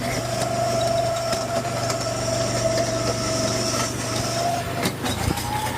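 Go-kart engine buzzing steadily on a go-kart track at Fun Spot Atlanta, a constant near drone with a low hum beneath, with no talk.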